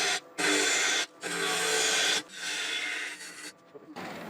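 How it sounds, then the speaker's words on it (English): A freshly burred scraper cuts a wooden box on a lathe in several loud, close rasping passes separated by brief pauses. "I put a new burr on my scraper."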